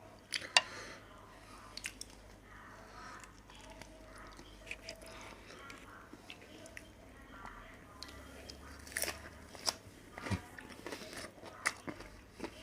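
Close crunchy bites and wet chewing of a crab stick salad roll with dipping sauce, soft and intimate, with irregular crisp snaps and squishy mouth sounds scattered across the recording.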